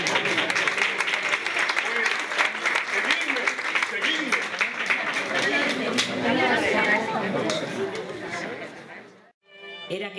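An audience claps in a fairly close burst of applause, mixed with crowd chatter and voices, before it fades out near the end.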